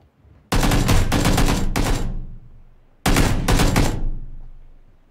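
Two loud bursts of rapid automatic gunfire in the battle royale game Battlegrounds, each a dense volley of several shots ending in a ringing decay, separated by a short pause.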